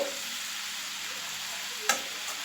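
Flat beans (shim) frying in a pan, a soft steady sizzle with a brief sharp clink of a utensil near the end, fairly quiet and close with no talking.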